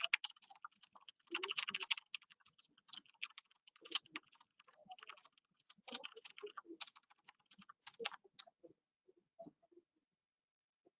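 Quiet, close typing on a computer keyboard comes in irregular bursts of rapid clicks with short pauses between them, and no talking.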